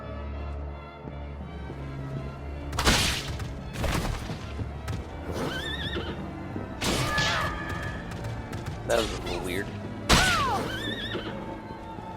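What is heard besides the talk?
horse neighing and hooves in video game Bloodstained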